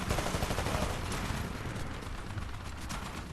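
Rapid turret gunfire in Titanfall's horde mode, a dense, continuous burst of shots with mechanical clatter running unbroken through the clip, fairly loud and with no talking over it.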